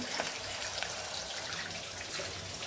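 Tap water runs continuously into a sink for washing utensils, a steady close rushing splash with faint drips, and no voices.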